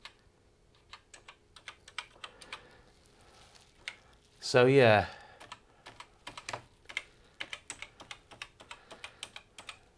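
Typing on an Acorn BBC Model B Micro keyboard, some keys faulty, produces a steady patter of light key clicks across the clip, interrupted midway by a brief spoken remark before the tapping resumes.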